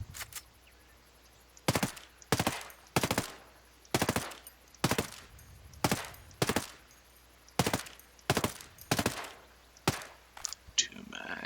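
Assault rifle in the video game Ghost Recon Breakpoint emptying a magazine, a string of about a dozen sharp, evenly spaced single shots, loud and close, ending in a brief rattle.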